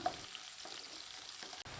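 Soft, steady sizzling of chopped onion sautéing in oil, with faint stirring scrapes now and then, quiet and close with no voices.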